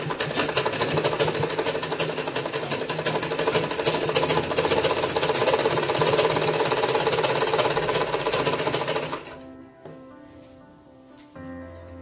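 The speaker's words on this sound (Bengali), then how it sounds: "এই দেখুন, আমি এবার সেলাই করে দেখাচ্ছি।" A sewing machine stitches a blouse with a rapid, even mechanical chatter for about nine seconds before stopping abruptly, followed by a few faint handling sounds.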